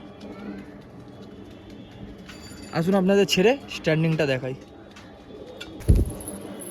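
Pigeons coo in two short, bubbling bursts close by while someone speaks over and around them, followed by a sharp thump near the end.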